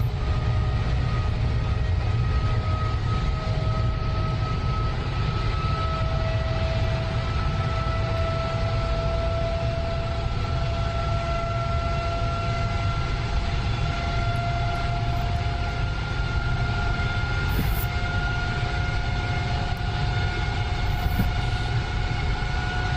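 An F-22A Raptor's jet engines in the DCS flight simulator run with a loud, continuous roar and several steady whining tones, holding a constant level with no talk.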